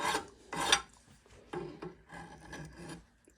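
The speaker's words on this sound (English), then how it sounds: "Chamfer that edge a little bit." A file rasps across the edge of an axe head to cut a chamfer, in several separate strokes of differing length with short pauses between them, close and moderately quiet.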